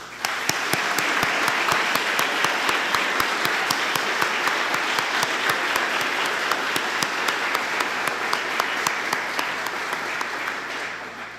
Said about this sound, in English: Please recognize our newest members with a round of applause.